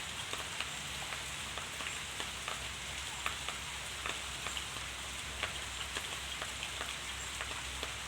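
Light rain falls steadily outdoors as an even hiss, with scattered sharp drops ticking on a nearby surface, quiet and without voices.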